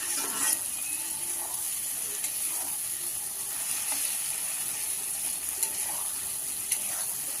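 Potatoes frying in hot oil for a vegetarian banana flower curry, giving a steady, bright sizzle with occasional stirring scrapes throughout.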